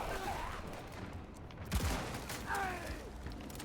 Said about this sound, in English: This SMG feels anemic